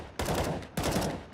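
Two sustained bursts of automatic fire from an FPS game, each lasting roughly half a second, loud and dense, separated by a short gap.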